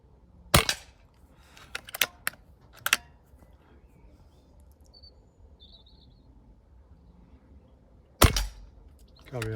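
Several sharp shots from a Zbroia Hortitsia mk3 air rifle without a silencer, one near 0.6 s, a few around 2–3 s and another near 8 s, close up over quiet background.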